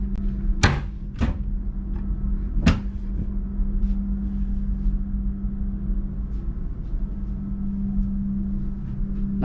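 Cabinet doors bang open and shut three times early on in a cargo ship crew cabin, sharp close knocks over a constant engine hum and low rumble, followed by a few soft rattles.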